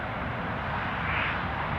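An airplane engine near Newcastle airport makes a steady broad roar, continuous and fairly loud throughout, with no break or change in level.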